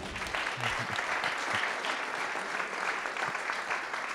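An audience at a charity show claps steadily for several seconds, a dense, even wash of applause with no break.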